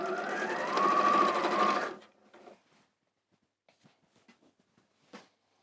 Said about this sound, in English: I'm sewing the 2 squares onto 2 sides of these.